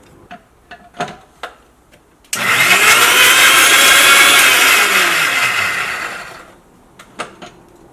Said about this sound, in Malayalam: അപ്പോൾ നമ്മൾ സവോള മിക്സിയിലിട്ടിട്ട് ഇതാ കറക്കിയെടുത്തിട്ടുണ്ട്